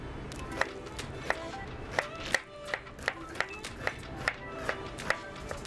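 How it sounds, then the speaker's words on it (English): A knife dices an onion on a cutting board for pasta bolognese, giving about a dozen crisp, evenly spaced chops in a steady rhythm, close and clear over quiet room sound. "Just do a small dice on the onion."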